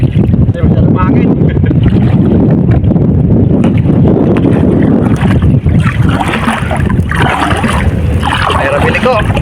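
Strong wind at sea buffets the microphone from a small boat, a loud, constant roaring rumble with splashing water throughout, steady and unbroken for the whole stretch.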